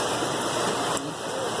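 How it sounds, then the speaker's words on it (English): Rain falling at Dollywood theme park: a dense, steady hiss of rainfall and water spatter that fills the whole short stretch, close and even, with no talk. "It seems like every time we come to Dollywood it rains"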